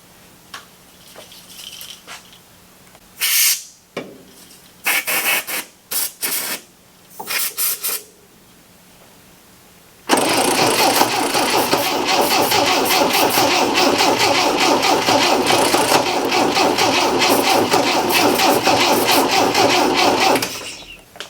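An MGB that had sat for about ten years cranks in several short bursts, then catches and runs loudly and steadily for about ten seconds before cutting out, with no talk over it.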